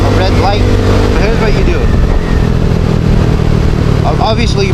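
A motorcycle engine runs steadily and loudly up close, with a broad constant rumble and faint shifting tones as the rider eases to a stop, voices faintly in the background.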